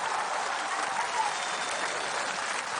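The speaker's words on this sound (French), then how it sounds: "Ça, on peut les applaudir très très fort." A television studio audience on a French entertainment show breaks into loud, sustained applause, a thick, even wash of clapping that fills the room without letup for nearly three seconds.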